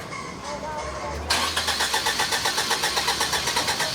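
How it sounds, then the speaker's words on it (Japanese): Voices and a low hum, then a restored Toyota car engine cranks abruptly to life and settles into a steady, rhythmic chugging close by. "エンジンかけるだけでこんな嬉しいんだ"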